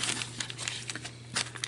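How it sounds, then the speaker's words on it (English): Cellophane bag with a sticky seal, bought for packing 5x7 mailers of handmade Christmas tags, crinkles in quick bursts close by, with a louder crackle near the end and no talking. "I bought these cellophane bags with a sticky seal on it right here from Amazon"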